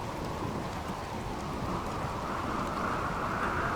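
Rain in the video game RimWorld, a steady, dense hiss of falling rain with a low rumbling undertone, continuous and fairly loud throughout with no voices.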